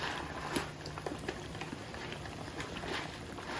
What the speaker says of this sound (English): You're going to add your macaronis in to your boiling water